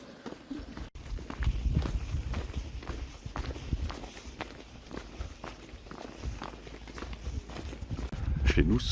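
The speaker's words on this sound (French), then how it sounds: "Ici, ce sont des chevaux." Hooves clip-clop steadily on a hard surface, several horses walking nearby, with a low rumble and occasional voices in the background.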